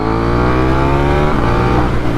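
KTM Duke 890R motorcycle engine revving hard while lifting into a wheelie, a loud close roar with dense harmonic tones that climb slightly in pitch, no voices.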